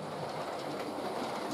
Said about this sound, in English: A modified Bachmann Craven's unit enters from the south.